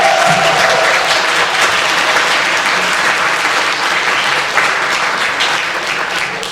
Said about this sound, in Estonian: me võiksime teha veel suurema aplausi kõikidele lastele, kes laval juba on üles astunud